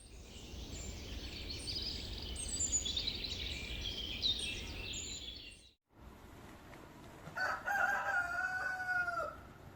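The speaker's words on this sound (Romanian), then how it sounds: "ne vedem iarăși pe un fundal de cântat de cocoș, ați auzit?" A rooster crows in a countryside village setting, one long drawn-out call followed after a brief gap by a second crow, somewhat distant over a low background hum, with no talking.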